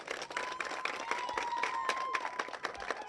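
Crowd applause at an outdoor election campaign gathering in Akanda, Gabon, a burst of many hands clapping at moderate distance with distinct sharp claps, a faint whistle-like tone and some voices mixed in.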